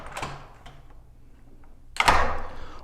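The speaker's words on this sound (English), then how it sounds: "Now when I'm closing this door" A side entry door on a concealed hinge system, with a broken latch, swings shut: a light tap early on, a quiet pause, then a solid, close latching thud with a short ring afterward.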